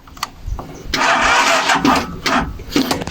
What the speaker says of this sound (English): the battery is not strong enough to start the engine